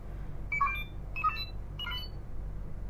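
A Bandai DX Faiz Driver toy belt, 2024 20th-anniversary edition, gives three short electronic button beeps about half a second apart, clear and close over a low background hum.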